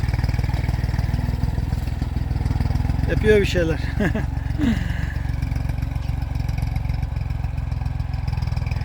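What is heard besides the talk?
tractor engine running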